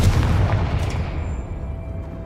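A Confringo blasting spell in Hogwarts Legacy sets off a single loud, booming explosion that rumbles and then slowly fades away.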